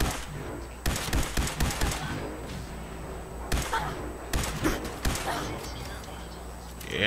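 A pink-textured gun fires in Fallout 4: loud, sharp bursts of shots in clusters separated by brief pauses, close and punchy, with a voice talking in places.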